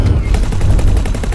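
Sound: ship weapons firing in video game X4: Foundations

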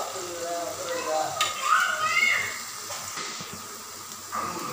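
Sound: onions sautéing in a pan

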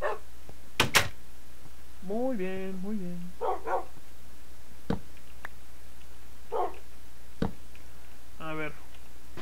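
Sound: dogs barking in a video game

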